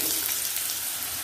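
Small diced potato pieces frying in hot oil with dried chilli and nigella seeds: a dense, even sizzle with a bright hiss throughout, brief and close.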